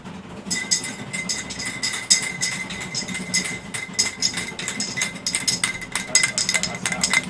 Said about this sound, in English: This is the sound of an empty can.